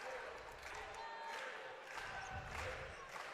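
A crowd at a Penn State vs Hawai'i volleyball quarterfinal cheers and roars steadily after a point, heard from a distance at low level in a large arena.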